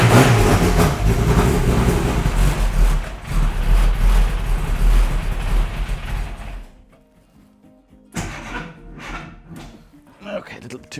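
A classic Mini Cooper S race engine runs loud and rough up close as it warms up, sputtering unevenly before cutting out; a voice talks briefly afterward amid some clunks.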